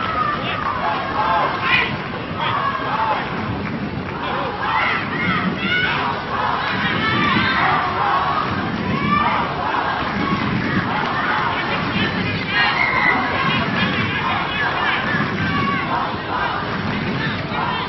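A stadium crowd roars and shouts during a rugby cup final between Sri Lanka and Hong Kong in 2016, a dense sustained din of many voices, with a commentator talking over it.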